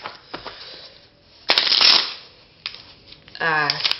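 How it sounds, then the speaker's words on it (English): Cards are shuffled in a few short bursts of crisp riffling and rapid flicking, with quiet pauses between them. "we can go ahead and give the deck a little shuffle"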